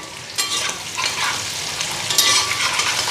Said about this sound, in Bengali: আলু ফ্রাই বসাইলাম